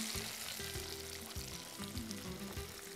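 Onions frying in hot oil with mustard seeds and curry leaves, a steady close crackling sizzle with a low rhythmic clatter running beneath it, no voices.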